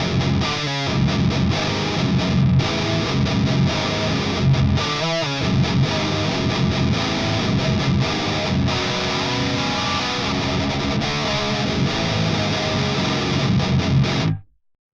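Heavily distorted electric guitar played through a LePou LE456 amp simulator with the contour control at maximum, a dense loud riff with brief palm-muted stops, ending abruptly.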